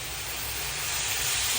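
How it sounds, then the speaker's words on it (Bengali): Chicken pieces frying in a pan for tandoori chicken pasta give off a steady, loud broadband hiss that holds level and swells slightly toward the end, with no voices. "পাস্তা নামায় এখন চিকেন গুলো একটু বেজে নিব।"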